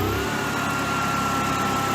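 A generator engine runs steadily at high RPM, producing a constant loud mechanical drone with a sustained whine, close and unbroken, with no voices.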